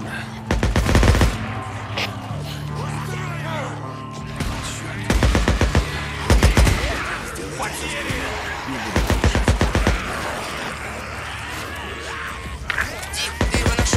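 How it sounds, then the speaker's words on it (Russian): Bursts of gunfire in the video game Days Gone, with several loud volleys of rapid shots spaced across the scene over an ambient game backdrop, with a brief voice. "Я слышу выстрелы."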